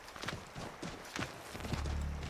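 Hooves clop in Assassin's Creed III in a quick, even rhythm, faint and steady, with a low rumble building near the end and no voices.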